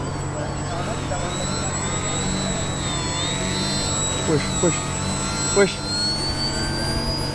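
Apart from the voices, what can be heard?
remote-controlled airplane flying over crowd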